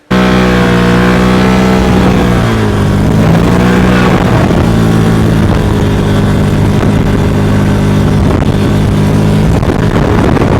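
A UTV engine revs loudly and steadily through a ride, its pitch sliding down then climbing again, with a constant rough drone close to the mic and no voices.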